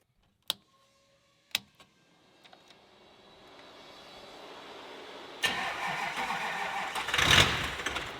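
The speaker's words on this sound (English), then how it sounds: "let's get this truck fired up, warm it up just a little bit" A 1200HP race truck cranks and fires up after a couple of sharp clicks, its engine settling into a rising idle that swells louder and rougher toward the end, close by with no talking.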